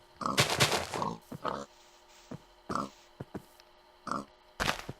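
A video game pig grunts and oinks in several short, separate bursts with brief quiet gaps between them. It sounds close and slightly low-fi.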